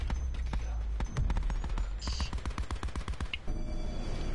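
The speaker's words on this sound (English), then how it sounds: "He pre-fired that just for so long." Sustained automatic gunfire in Black Ops 4, a long rapid burst of close shots pre-firing at a house, stopping abruptly near the end with faint game sounds after.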